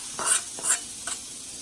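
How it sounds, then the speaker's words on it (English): Seasoning stirred into boiling tomato rasam, two or three brief sloshing, scraping stirs over a soft background hiss, close and short, without voices. "Mix everything."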